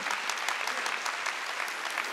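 Worshippers at a Sunday church service clap together in a steady, fairly soft wash of applause that carries evenly through the whole stretch without pause.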